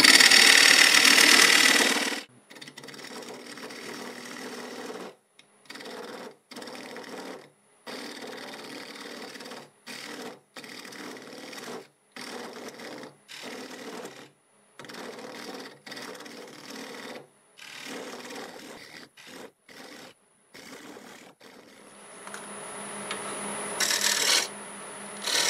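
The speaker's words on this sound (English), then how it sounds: "I've marked a line over here for the tenon, so we'll go ahead and cut that." A freshly sharpened parting tool cuts a tenon in red cedar on a wood lathe, a loud opening scrape followed by a series of short, rough cutting bursts separated by brief silences, close by.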